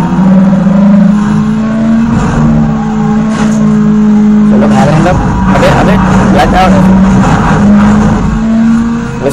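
Race car engine roaring in the Need for Speed video game, a loud steady drone with shifting pitch and whooshing rushes midway as if passing under an underpass, while a person talks over it.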